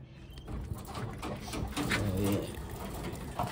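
Pigeons coo softly and repeatedly, low and close, beside other birds chattering in an aviary of Taiwan pigeons, with steady background noise throughout.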